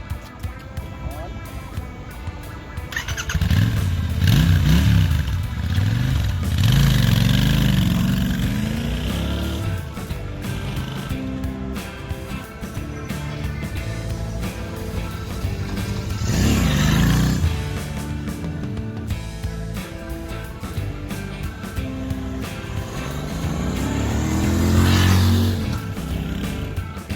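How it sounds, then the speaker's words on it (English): A Royal Enfield Interceptor 650 motorcycle engine while riding, holding a steady drone that swells as it revs, with talk over it and wind rush throughout. "Let me ride the bike and show you how it feels to ride the bike."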